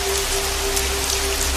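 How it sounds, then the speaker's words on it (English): Steady rain falling at night outside a suburban house, a dense even hiss of drops pattering on surfaces with a faint low hum beneath, continuous and close. "and still raining."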